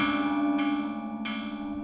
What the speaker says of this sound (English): as you tug on it, you hear a soft bell sound